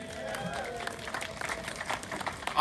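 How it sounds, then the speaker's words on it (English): Crowd applause for Active SGV at an open streets event, a dense patter of many hands clapping outdoors, moderately distant, building toward the end with some voices mixed in. "Can we give a big round of applause to Active SGV?"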